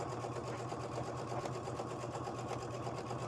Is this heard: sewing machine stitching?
yes